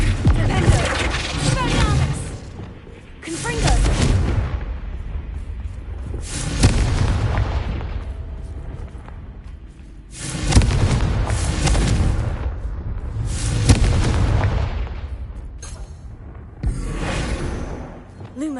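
Repeated booming blasts from the Confringo spell in Hogwarts Legacy, several loud bursts spaced every few seconds across a dense game soundscape with low rumbling between them.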